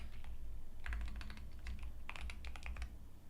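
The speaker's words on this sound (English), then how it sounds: "it's a Keychron Q1HE wireless keyboard." Quick clacky keystrokes on a Keychron Q1HE wireless mechanical keyboard in two short flurries, close up, with a low hum underneath and no voices.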